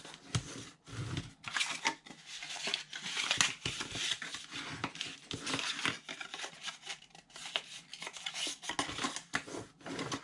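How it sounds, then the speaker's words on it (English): Craft paper is folded along score lines and burnished, giving close, quiet crinkling, rubbing and scraping strokes in an irregular rhythm with no speech. "And now I'll fold and burnish my scores."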